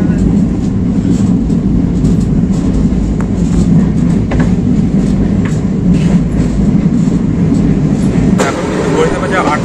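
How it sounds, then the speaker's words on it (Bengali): Sri Jagannath Express running into Shalimar station: a loud, continuous rumble of wheels on rails with faint clickety-clack, heard close from inside the coach, with a voice speaking briefly over it. "আমাদের ট্রেন ঢুকছে শালিমারে।"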